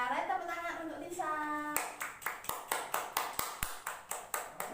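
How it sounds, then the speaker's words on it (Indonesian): Classroom clapping for a student: a voice speaks first, then a group claps together in a steady, even rhythm of about a dozen sharp, close claps. "Ayo, tepuk tangan untuk Lisa."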